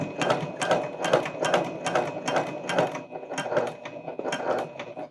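A sewing machine stitching a tote bag runs in a quick, even rhythm of repeated mechanical thumps, about two per second, close and moderately loud, slowing to a stop at the end.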